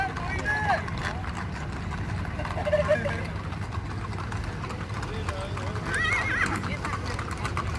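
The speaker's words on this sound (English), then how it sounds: "they just letting the horses go on by them" Horses' hooves clip-clop on the road as they pull wagons in a wagon train parade, a steady, moderately close rhythm with a neigh, under people talking nearby.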